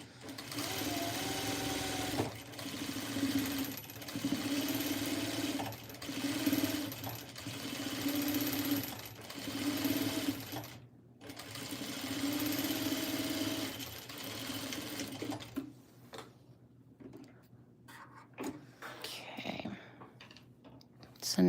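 A sewing machine top stitching a quilt runs in steady bursts of rapid mechanical stitching, close and fairly loud, with short pauses between runs before trailing off into quieter handling noises.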